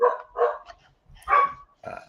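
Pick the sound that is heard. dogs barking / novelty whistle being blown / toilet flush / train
dogs barking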